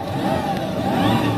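Mazda CX-80 PHEV accelerating in EV mode, its electric motor giving a steady synthetic hum and whine that rises slightly in pitch, close and continuous throughout.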